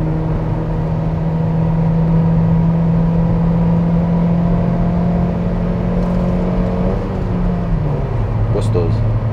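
JAC J5 car on a highway, a steady engine drone and road noise that holds at one pitch and then drops as the gear or speed changes, with someone talking over it.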